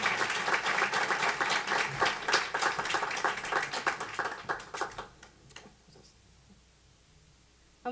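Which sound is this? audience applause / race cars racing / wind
audience applause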